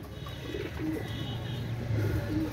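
Pakistani pigeons coo softly and repeatedly close by, low throaty calls overlapping in a constant background hum, with no voices.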